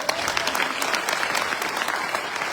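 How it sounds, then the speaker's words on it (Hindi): An audience at a business meeting claps together in a brief, dense burst of applause, close and loud. "11 साल के लिए ताली बजाओ।"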